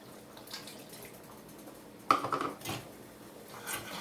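Unsweetened almond milk is poured and stirred into vegan macaroni cheese sauce in a pot. After a quiet start comes a sudden clank of metal on the pot, followed by a short burst of liquid sloshing and scraping, then softer stirring.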